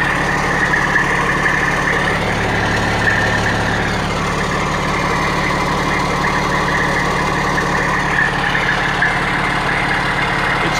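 A 1992 Freightliner FLD flat-top diesel truck idling in a steady, close, even rumble with a faint knocking texture, unchanging from start to finish with no voices.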